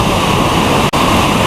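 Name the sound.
waterfall at Anbang Falls rock formation, Matanao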